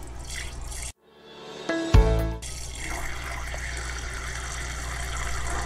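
Distilled water is poured into a laboratory beaker with a short splashing trickle that rises in pitch as the glass fills, set against a steady background hum.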